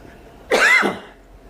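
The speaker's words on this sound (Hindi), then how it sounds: "मुझे सर्दी हो रखी है, खांसी हो रही है" A single harsh cough from a person with a cold, one loud close burst lasting about half a second, with no talking around it.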